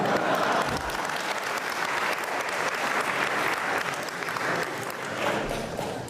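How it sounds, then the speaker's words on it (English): An audience at a debate applauds, a dense, steady wash of many hands clapping that holds at full strength for about six seconds before cutting off. "Why are they clapping?"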